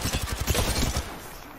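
Rapid automatic gunfire in the battle royale game Apex Legends, a dense burst of repeated shots in the first second that tails off into softer ambient noise.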